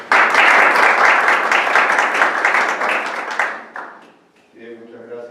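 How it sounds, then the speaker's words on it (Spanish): An audience at a history lecture claps loudly and steadily for about three and a half seconds, then the applause thins out and fades as a nearby voice starts speaking. "Recibámoslos con un fuerte aplauso"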